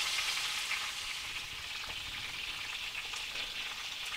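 Meat shanks browning in hot fat in a Dutch oven, a steady close sizzle and crackle with occasional spatter pops and no talk.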